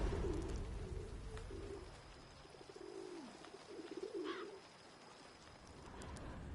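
Pigeons coo softly in The Witcher 3: Wild Hunt Blood and Wine expansion, several low rounded calls repeating over a faint ambient game background with a brief higher chirp.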